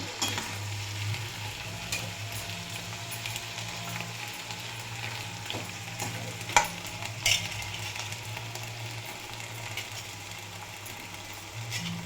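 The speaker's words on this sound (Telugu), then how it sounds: "వంకాయ ముక్కల్ని ఇందులో వేసేస్తున్నాము. వేస్తే మధ్య మధ్యలో కలుపుతూ ఉండాలండి, అడుగంటకుండా." Brinjal pieces fry in a pan and are stirred now and then, giving a steady low sizzle with a few brief scraping clicks, moderately quiet and without speech.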